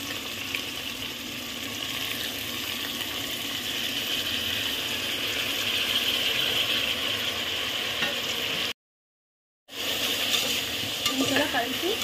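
Tomato and onion fry in oil for a homemade Hyderabadi chicken dum biryani, making a steady close sizzle with stirring scrapes. The sound drops out briefly near the end and then returns.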